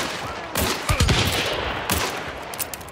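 Shotgun blasts ring out in the game Hunt: Showdown, two loud booming shots about a second apart, each with a sharp crack and a rolling tail, plus scattered fainter gunfire nearby.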